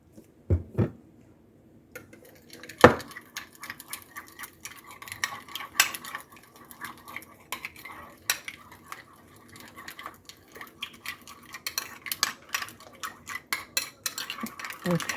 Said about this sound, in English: I'm just going to do it with a stirring spoon.